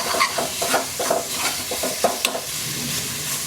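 Tomato being stirred into a sizzling masala in a pan for egg vindaloo, with a steady fry hiss and repeated scraping strokes of a spoon against the pan, close and fairly loud, no talking.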